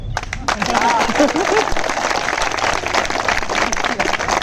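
Scattered, half-hearted clapping from a crowd at a gathering of unemployed teaching candidates, steady and fairly loud across the clip, with voices and crowd noise mixed in underneath.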